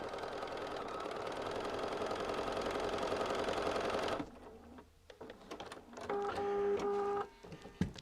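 Sewing machine running steadily while stitching quilt block pieces for a poinsettia block, a dense close whir for about four seconds, then stopping, followed by handling noises and a short second burst of stitching.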